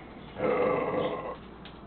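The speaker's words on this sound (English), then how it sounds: "that burp shook the camera a little bit there" A man lets out one deep, loud, drawn-out burp lasting about a second, close up, in an indoor setting with no talking over it.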